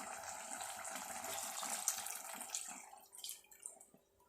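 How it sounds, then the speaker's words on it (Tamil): Coconut milk is poured into a pan of prawn curry as a faint, soft liquid trickle and splash that thins out and fades to quiet patters toward the end. "இப்போ வந்து தேங்காய் பாலையும் சேர்த்தலாம்."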